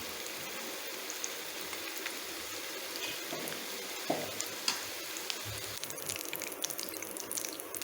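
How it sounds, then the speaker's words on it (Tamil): Potatoes fry lightly in a pan with oil, giving a steady close sizzle with small pops and occasional stirring clicks and scrapes, and no talking. "ஃப்ரை பண்ணும்போது பொட்டேட்டோ வந்து நல்லா ஸ்மெல் வர ஆரம்பிக்கும்."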